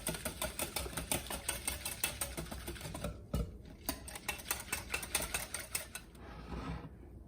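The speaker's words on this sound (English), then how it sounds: "we're gonna whisk it really well." Quick, rhythmic tapping and scraping of a whisk beating scalloped potato sauce mix and water in a bowl, close and steady, with a brief pause partway through.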